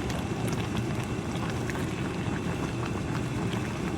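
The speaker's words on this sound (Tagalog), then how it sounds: "kumukulo na ang ating ulam" Steady bubbling and hissing of ginataang tulingan, a fish stew in coconut milk, at a rolling boil in a pot, continuous and fairly loud, with no talking.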